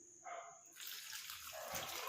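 Water from a tap splashes and pours over hands being rubbed to wash off homemade black hair dye, a steady close hiss of running water after a brief earlier trickle.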